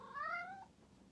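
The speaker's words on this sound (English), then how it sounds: "There's my cat." A domestic cat gives one short, clear meow, rising then falling, heard close but fairly quiet against a hushed room.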